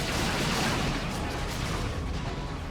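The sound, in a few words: barbed strangler shots hitting Sentinels in Dawn of War 2 video game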